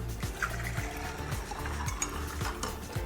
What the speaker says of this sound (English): We're gonna pour it in.